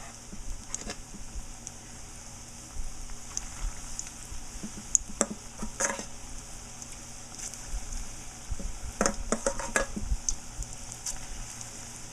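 Pholourie batter balls fry in hot oil with a steady, soft bubbling sizzle, punctuated by occasional sharper pops and crackles as more pieces are dropped in or turned, heard close with no talking.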